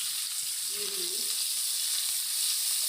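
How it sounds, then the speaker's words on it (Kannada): Onions, green chillies, mustard seeds and curry leaves fry in hot oil for tomato chitranna, a steady close sizzling hiss that holds throughout, with a brief faint tone near the start. "ಎಲ್ಲ ಹಾಕಿ ಸ್ವಲ್ಪ ಹೊತ್ತು ಫ್ರೈ ಮಾಡೋಣ."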